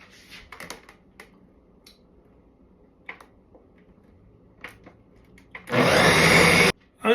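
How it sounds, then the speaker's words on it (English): Countertop blender whirring loudly as it blends soaked cashews and water into milk, a single sudden burst of about a second that starts and stops abruptly after quiet handling noises. "Now I'm gonna run the blender for a minute."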